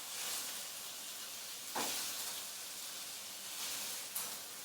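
Coq au vin chicken pieces sizzle in a hot pan, a steady broadband hiss with brief crackling swells as the pieces are pressed down, close but fairly soft and without voices.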